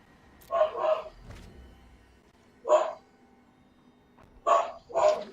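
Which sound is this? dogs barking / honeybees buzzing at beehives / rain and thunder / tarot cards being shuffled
dogs barking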